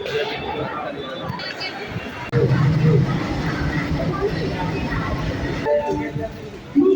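A train at a railway station during heavy rain rumbles and clatters, rising in loudness partway through, while crowd chatter and voices mix in throughout.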